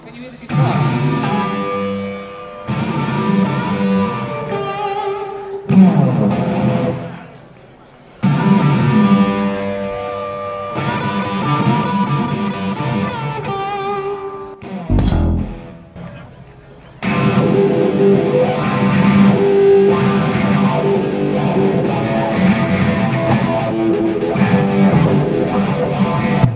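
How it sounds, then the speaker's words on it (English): Live rock guitar at the 1995 Rock and Roll Hall of Fame induction jam, loud distorted chords and riffs with band and crowd noise, broken by short pauses. "Can you hear the guitar?"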